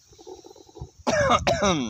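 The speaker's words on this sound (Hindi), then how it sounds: "खांसी आ गई, खांसी।" After a quiet moment with faint background tones, a person gives two harsh, close coughs in quick succession.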